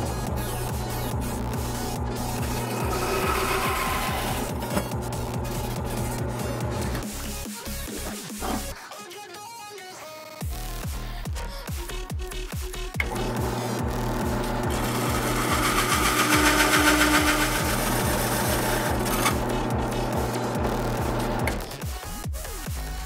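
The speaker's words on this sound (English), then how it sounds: "we've got some 16 inch aluminum and a couple of hole saws, and we're going to try and punch one more out" Steady whirring drone of a drill-driven hole saw cutting thin aluminum shim stock, heard close and continuous. A brief pause falls near the middle before the cutting resumes.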